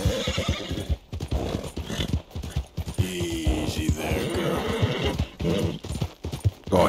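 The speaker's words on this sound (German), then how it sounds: "doch nicht so laut wiehern" A horse in the video game Red Dead Redemption 2 whinnies loudly and repeatedly over a steady clip-clop of hooves, close and continuous throughout.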